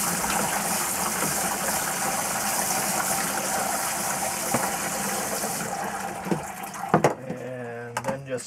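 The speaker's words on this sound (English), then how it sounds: "Take some water here on a hose, old shower head, rinse them all off." Water from a hose fitted with an old shower head sprays steadily over stainless steel tumbling pins, a loud continuous rush that cuts off near the end, leaving a few clinks and splashes.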